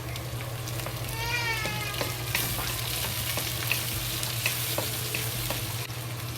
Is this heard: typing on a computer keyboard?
no